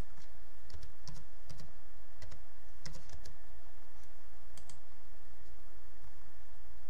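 A product key is typed on a computer keyboard for Windows XP activation, with irregular bursts of crisp, close key clicks over a steady background hum.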